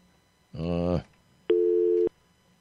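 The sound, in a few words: telephone dialing out on AT&T line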